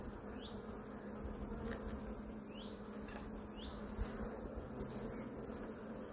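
Honeybees buzz at an open hive in a steady, dense drone that holds for the whole stretch, with a few brief chirps heard faintly over it.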